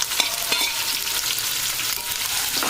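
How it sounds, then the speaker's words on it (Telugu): Onions and green chillies fry in hot oil in a pan, giving a steady close sizzle with occasional stirring scrapes, alone and without talk. "వాటిని నూనెలో ఫ్రై అయ్యాక కలుపుకోవాలి."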